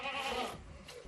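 Goats on a mountain farm bleating close by at dawn milking time, a short continuous bleat filling most of the moment before trailing off.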